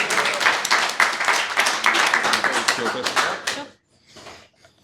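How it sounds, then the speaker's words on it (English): An audience applauds after a first-ever pitch at a pitching event, dense clapping that carries on for several seconds before cutting off, followed by a little scattered clapping. "Another round of applause just for doing your first one"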